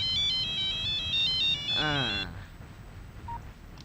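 A melodic phone ringtone chimes as an incoming call arrives, a bright repeating tune that plays near and clear for about two seconds before it cuts off into room quiet, with speech overlapping briefly.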